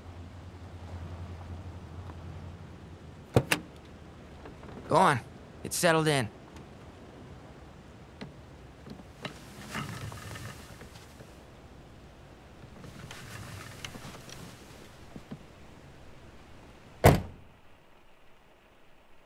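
A car door opens and shuts in an audio drama scene, heard as sharp clunks spread over the scene, while rain falls and a voice speaks a few short lines.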